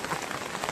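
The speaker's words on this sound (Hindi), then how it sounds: "आई बारिश बढ़ रही होते।" Heavy monsoon downpour, dense steady hiss of rain pattering on surfaces nearby, continuous with no talk.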